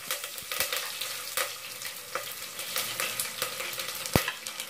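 Curry leaves fry in a pan with a steady close sizzle and crackle, broken by occasional scrapes and taps of a stirring spoon against the metal, with no voices.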